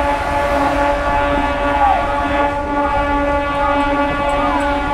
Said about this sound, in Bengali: শ্বাসপুর রোড ঢুকছে ট্রেন